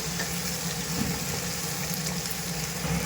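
Tomatoes fry in hot oil for a prawn thokku, giving a dense, steady sizzle with soft crackles throughout, close and fairly loud, with no voices.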